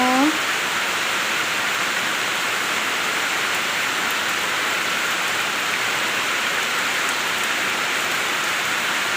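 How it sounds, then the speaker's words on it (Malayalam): Heavy rain pours down steadily as a dense, continuous hiss that stays loud and even throughout, with no voices heard. "അടിപൊളി മഴ പെയ്യുന്നു"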